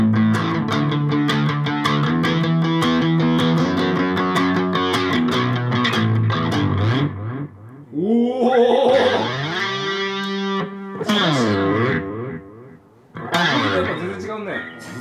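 A heavily distorted electric guitar played through an effects unit: thick, sustained chords for several seconds, then bending, swooping notes that break off into short pauses and return, loud and up close.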